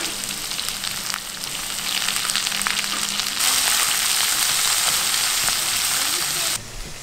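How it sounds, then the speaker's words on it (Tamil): Mustard seeds, urad dal, black pepper, dried red chilies and sliced onions frying in hot oil in a pan, giving a steady, loud, close sizzle with crackling pops that brightens partway through and continues without talk. "கடுகு பொரிஞ்சதும் கொஞ்சமாக உளுந்து சேர்த்துக்கிறேன்"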